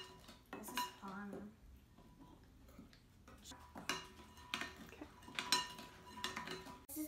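Gingerbread dough being mixed in a bowl: quiet, irregular clinks and scrapes of a spoon against the bowl, coming in clusters with short pauses between them.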